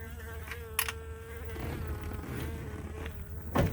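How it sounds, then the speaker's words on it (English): A bee buzzes steadily close by, a droning hum that rises and falls as it moves around a garage or workshop where a 1951 Chevy is being worked on, with a couple of small sharp clicks but no talking. "there's a bee here. He's not happy. I do not know why that bee is so mad."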